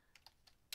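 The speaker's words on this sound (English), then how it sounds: "We'll go ahead and type that into Google" Several quiet keystrokes on a computer keyboard, a few scattered taps and a sharper final press, typing a search into Google, close and alone.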